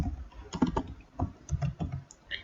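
Short burst of keystrokes on a computer keyboard as a table name is entered, irregular clusters of light clicks with small pauses between them, close and clear with no talking.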